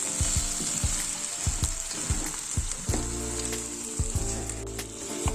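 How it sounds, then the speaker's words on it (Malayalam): Fried quail added to hot biryani masala in a pan sizzles loudly and steadily, broken by scraping and stirring clatters of a spoon against the pan, with no one speaking. "ഇനി ഇതിലേക്ക് നേരത്തെ ഫ്രൈ ചെയ്ത് വെച്ചിരുന്ന കാട ചേർത്ത് കൊടുക്കാം."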